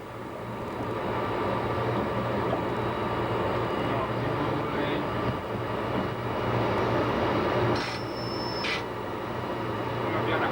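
Italian State Railways train from the 1990s rolling slowly past a station near Trieste, a steady low engine rumble throughout with a brief high tone partway, under continuous cab noise.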